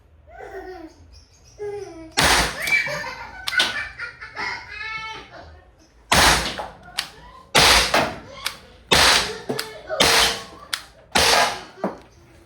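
A SOLID TR50 .50 caliber tactical airgun revolver fires several sharp, loud cracks at irregular intervals, each with a short tail, with people talking and laughing between shots.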